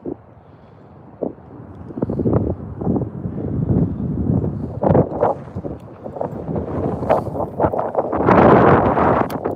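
Gusty wind buffets the microphone in uneven bursts beside a canal, growing rougher and louder toward the end, with some rustling and knocking mixed in.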